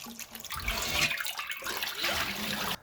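Running water splashes steadily as fresh spinach is rinsed by hand for a Korean spinach miso soup, with close, continuous gurgling and sloshing throughout.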